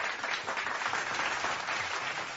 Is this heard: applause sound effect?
yes